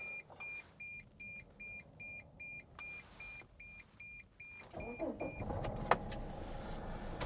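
A 2005 Mercedes Sprinter T1N 118 high-roof passenger van gives a regular series of dashboard warning beeps, then its engine cranks and catches, rising into a rough, steady idle close to the listener.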